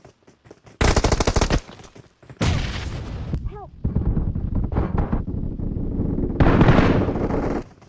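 Gunfire in the mobile battle royale game PUBG Mobile, loud dense bursts of rapid shots broken by short pauses, with a brief ringing whine between volleys.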